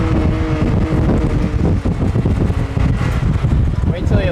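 A two-wheel drive vehicle climbs a wet, foggy hill, its engine laboring loud and steady with wind buffeting the microphone, while people talk inside the cab.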